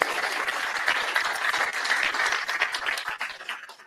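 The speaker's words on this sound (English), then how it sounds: "a huge applause for that." Audience applause at a live business event in Estonia, a close, dense run of sharp claps that stays loud for several seconds before thinning near the end.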